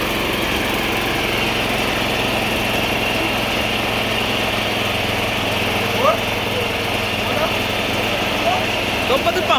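Engine of a cassava processing machine running continuously at a steady drone, loud and close, with a faint voice and small clatters of cassava being fed near the end.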